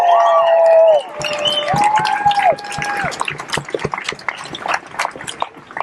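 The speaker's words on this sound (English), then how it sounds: "Let's give her one more round of applause." A crowd at a protest rally at Richmond's Virginia Capitol Square breaks into applause and cheering after a sustained tone fades, with claps and shouts building into a dense, lively burst.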